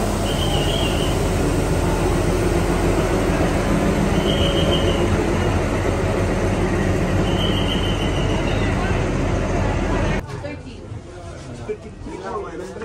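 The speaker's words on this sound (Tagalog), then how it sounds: "The arriving of the train, guys." A train pulls into a station with a loud, continuous rumble and clatter of wheels on rails, a few faint squeals rising over it, before the noise drops away abruptly into quieter ambience near the end.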